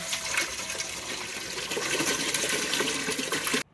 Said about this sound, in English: So we're just gonna rinse it and rinse with water.